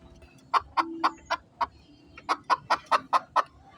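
A labuyo junglefowl hybrid rooster clucks in a series of about a dozen short, sharp calls, some spaced and some in a quick run, close and clear against a quiet background.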